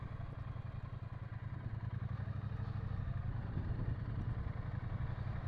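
A motorcycle engine runs close by at low revs with a steady throbbing rumble and light mechanical clatter while the clutch is worked during slow-speed riding practice, the pitch rising and falling only slightly.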